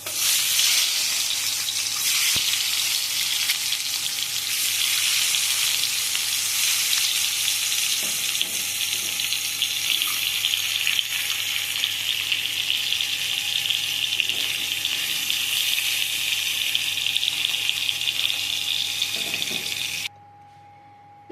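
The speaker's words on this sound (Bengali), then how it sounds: "নুন হলুদ মাখানো ডিমটা ভালো করে ভেজে নিয়েছি" An egg coated with salt and turmeric frying in oil in a kadai, a steady close hiss and crackle lasting about twenty seconds, with a few faint stirring clinks, then cutting off abruptly, no voices.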